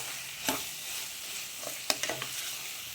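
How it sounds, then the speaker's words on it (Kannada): Chicken with masala fries quietly in a pan for a mint green chicken gravy. A soft, even sizzle is broken by a few light stirring clicks. "ಈ ಥರ ಫ್ರೈ ಮಾಡಿ ಎಲ್ಲ ಮಸಾಲ ಹಾಕಿ"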